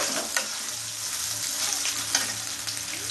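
Grated coconut sizzling and frying in a pan with chana dal for a Bengali-style dish, a steady hiss with occasional stirring scrapes.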